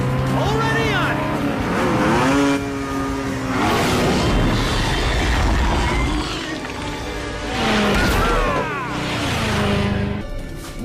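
Race car engine roaring at full throttle with tire squeal, loud and continuous beneath constant excited talk.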